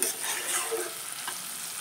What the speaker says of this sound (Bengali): দিয়ে একসাথে নেড়ে নিয়ে